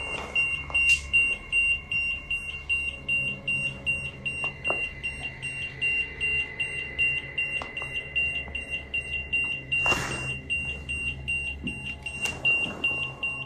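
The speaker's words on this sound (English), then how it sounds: "they get another active reading on their EMF meter." A steady high-pitched electronic tone from an EMF meter drones continuously with faint rapid beeping inside a dormitory, while occasional brief noises and bumps occur nearby.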